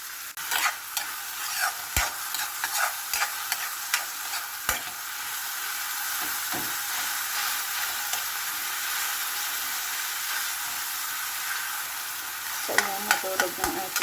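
Tomatoes being stirred in a hot pan for chicken asado, with a constant soft sizzle and occasional sharp spoon scrapes against the pan.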